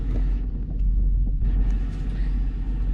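A truck pulling away from a truck stop, its engine a deep steady rumble close by with a brief dip and rise in road noise as it moves off.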